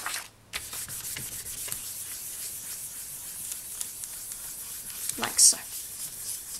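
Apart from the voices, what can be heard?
burnishing polymer clay jewelry smooth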